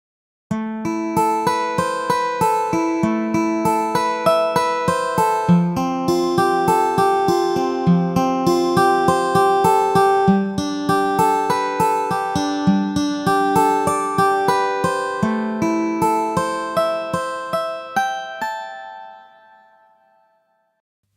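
Logic Pro X's virtual acoustic guitar instrument plays a picked, melodic line of clear plucked notes at moderate volume, with no voices, gradually fading out over the final seconds.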